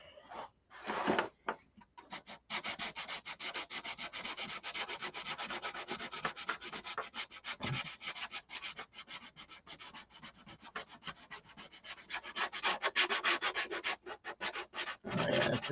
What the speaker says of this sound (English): That's got to get sanded out of there.